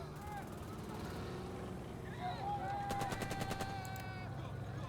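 Machine gun fire from a World War One tactical video game, heard as a rapid burst of repeated shots around the middle of the clip over steady background music and game ambience.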